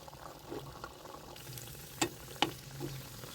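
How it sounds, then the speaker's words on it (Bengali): Spinach puri deep-frying in hot oil, a quiet steady sizzle with a couple of sharp crackles and pops as the dough is turned. "উল্টে পাল্টে একটু লালচে করে ভেজে নিচ্ছি"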